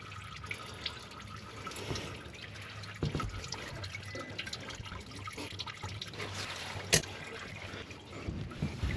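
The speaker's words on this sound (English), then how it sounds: "I like to start it just a little bit, and it's going to start dripping. So we'll let it drip like that." Engine oil drips from a loosened oil filter on a 3.0 Duramax engine, soft irregular drips and small splats over a low background hum, close by, with one sharper drop standing out.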